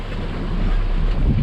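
Steady, loud wind buffets a microphone on a boat in Miami, a constant low rumble with broadband rushing noise and no voices.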